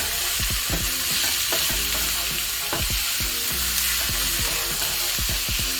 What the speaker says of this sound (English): So I'm just going to stir this around for a little bit.